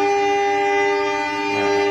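The horn of the Pasundan train sounds as it departs on the southern line, one loud sustained steady blast held for the whole clip, close by, with no talk.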